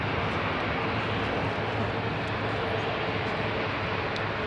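An ATR 42 turboprop airliner at London Heathrow Airport roars in a loud, broad, continuous engine wash that holds steady throughout with no pauses.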